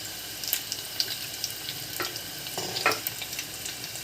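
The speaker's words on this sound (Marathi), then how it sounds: "लसूण थोडा आपण लाल होऊन देऊ." Garlic fries in oil with curry leaves in a kadhai, a steady soft sizzle with light crackles and an occasional utensil stir, close but fairly quiet.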